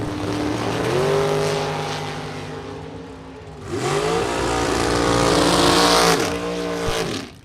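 A dragster and a Corvette launch side by side at a drag strip, engines roaring loud and close, with rising revs, gear changes and a sustained high-power blast as they accelerate away.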